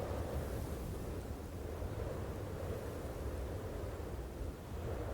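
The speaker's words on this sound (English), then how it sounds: "Something about this storm isn't right." Storm wind in Genshin Impact howls as a steady, low, even roar like distant surf, fairly faint and unbroken throughout with no voices over it.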